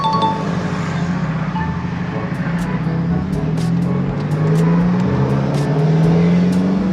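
A turbocharged car engine revs up and holds a loud, throaty drone, pitch climbing steadily, close by with a few faint clinks on top.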